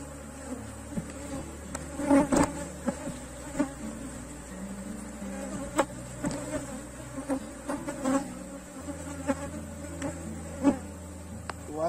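Honeybees buzzing steadily around an open beehive frame during colony inspection, a dense continuous hum with individual bees zipping close past, loud and without talk.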